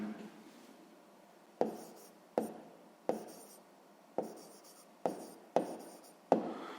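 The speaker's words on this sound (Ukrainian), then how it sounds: "Ну що ж, записуємо тоді відповідь." A pen scratches on paper as an answer to a sixth-grade math exercise is written out by hand, about seven quick, sharp strokes in an uneven rhythm, each fading away in a quiet room.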